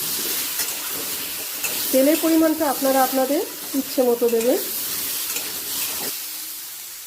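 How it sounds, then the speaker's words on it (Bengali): Potatoes frying with salt in a pan, a continuous sizzle and stirring under a voice speaking through the middle of the clip. "লবণটা দিয়ে আরও একটু লাল করে ভেজে নেবেন"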